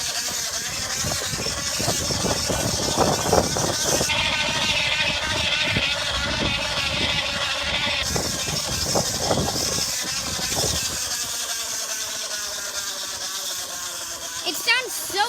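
A plastic water bottle pressed against a spinning bicycle tire buzzes continuously like a small motorcycle engine, loud and close, with the pitch shifting as the bike changes speed.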